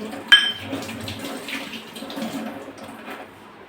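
Water pours and splashes softly into a bowl of finger millet flour for a few seconds, close by, after a brief clink at the start.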